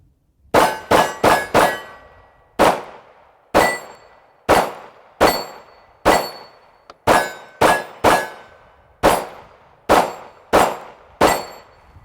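Ruger American 9mm pistol firing at a range: about fifteen sharp, loud shots, some in quick bursts and others spaced a second or so apart, each with a ringing clang and a short decay, with no talking.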